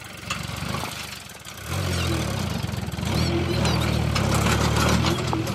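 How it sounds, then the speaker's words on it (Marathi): Machine digging 6 to 7 foot deep pits on a farm for solar panel installation, its engine running loud and steady, rising in strength partway through. "6 ते 7 फूट खोल हे खड्डे घेण्यात येणार आहे या मशीनच्या साहाय्याने,"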